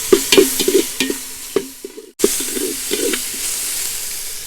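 A ground paste of green chili, coriander and mint sautés in a pan for beef dum biryani, a close, loud sizzle with repeated clattering stirs, briefly cutting out before the frying and scraping resume.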